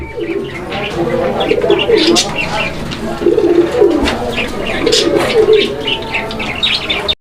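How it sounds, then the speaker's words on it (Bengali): A pair of racing pigeons coo repeatedly at close range in soft, rolling phrases, mixed with small chirps and an occasional flutter of wings. "এখানে একজোড়া রেসার কবুতর আছে"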